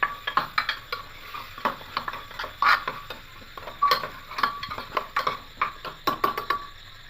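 A spoon mixes ingredients in a pressure cooker for lentil and egg khichdi, producing quick irregular scraping and tapping strokes against the metal pot, close and fairly busy, with no talk.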